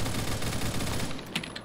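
Rapid automatic gunfire from the Phantom Forces first-person shooter game, a dense, loud burst of shots fired in quick succession that continues without a break, with no talking.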